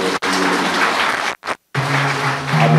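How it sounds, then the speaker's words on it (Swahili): Applause breaks out at a funeral gathering for a deceased ward councillor in Iringa, a steady dense crowd clapping that cuts off briefly and then resumes, with a low hum running beneath. "tumpigie makofi mengi sana kwa utumishi wake"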